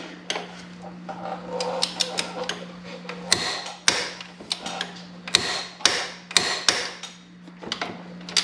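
A torque wrench tightens brake caliper mounting bracket bolts on a Cadillac DeVille, giving repeated sharp ticks and clicks in an uneven rhythm over a steady low hum, close and fairly loud.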